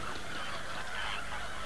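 Dense, continuous honking and calling from a crowded flamingo nesting colony, a busy chorus of many birds at moderate distance with no gaps.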